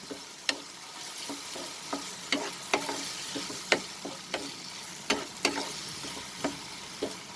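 Chicken stir fry with soy sauce sautéing in a pan: a steady soft sizzle under a run of sharp clinks and scrapes from the spatula, one every half second or so, close and fairly quiet.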